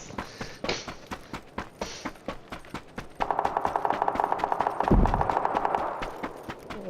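Rapid gunfire in the video game PUBG, a run of sharp evenly spaced shots cracking at a steady rhythm, then a denser, louder burst of automatic fire with one heavy boom, heard at moderate distance.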